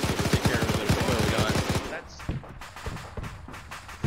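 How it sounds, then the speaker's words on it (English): Rapid machine gun bursts rattle through a D-Day battle in a video game, a dense rhythmic stream for about two seconds that then breaks into scattered distant shots. "That's an MG."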